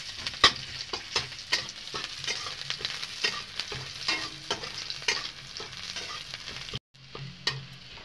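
Chopped onions fry in a pan with a continuous soft sizzle and repeated scraping stir strokes, close and steady, with one brief gap near the end.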